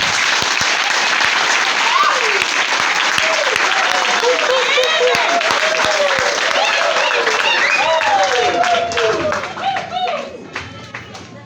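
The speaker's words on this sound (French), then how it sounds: "On acclame très fort pour lui." Loud, sustained applause from a church congregation at a priestly ordination, acclaiming Father Rosan with steady clapping throughout before it thins out near the end; cheering voices mix in.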